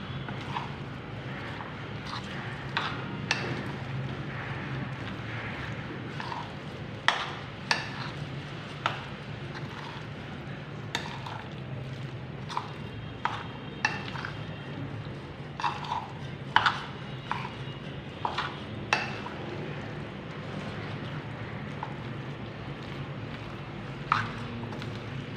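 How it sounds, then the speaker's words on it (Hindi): Potato, onion and green chilli pakora mixture is stirred by hand in a bowl, with soft squelching and scraping and occasional sharp taps against the bowl under a steady room hum. "प्याज और सब्ज़ मिर्चें, इसको अच्छे से मिक्स कर लेंगे।"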